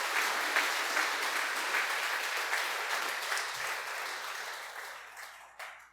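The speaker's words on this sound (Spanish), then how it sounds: "Dale un aplauso al Señor," A church congregation applauds steadily, a dense sustained clapping that fills the room for several seconds before gradually thinning out near the end.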